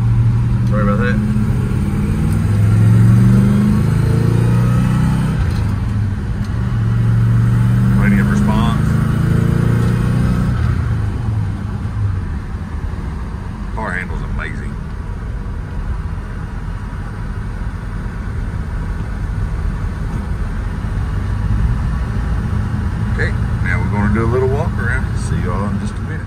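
A 1967 Pontiac GTO on original wheels with BF Goodrich T/A tires runs nearby, its engine a steady low rumble throughout, loudest in the first ten seconds while someone talks over it.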